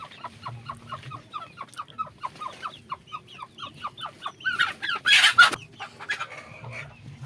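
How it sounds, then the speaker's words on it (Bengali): A native hen settled on her eggs in a coop gives a steady run of soft, rhythmic clucks close by, rising into a louder burst of agitated squawking near the end. "একটা মুরগি দেখতে পাচ্ছেন এখানে বসেছে দেখুন"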